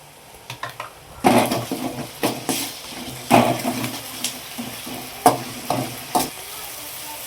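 Ginger garlic paste frying in a pan for egg rice, with steady sizzling and a run of sharp spatula scrapes and clanks against the pan recurring every second or so, close and fairly loud.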